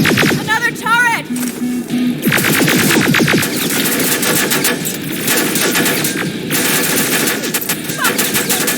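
Sustained turret machine-gun fire in the Terminator Resistance video game, a dense rapid rattle running nearly nonstop for several seconds, loud and close, with a brief spoken line mixed in early.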